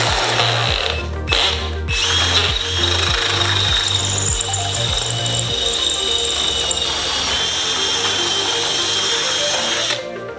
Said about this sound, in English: we'll just ream out the hole all the way up to a half inch